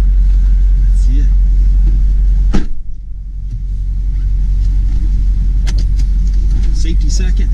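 A Duramax diesel engine swapped into an H2 Hummer runs with a steady, loud, close rumble and a brief thump partway through, its turbo winding up beneath the deep drone.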